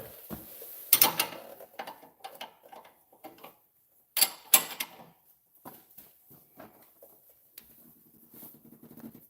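Front strut bolts being tightened on a 2012 Chevy Malibu LT, close irregular clicks and metallic clanks of a ratchet and tools, with a few sharper knocks and short gaps between bursts.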